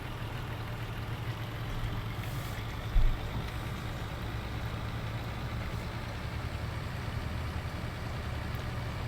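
A truck engine idling in the farming game Farming Simulator 19, a steady low mechanical drone at moderate level with one brief thump partway through.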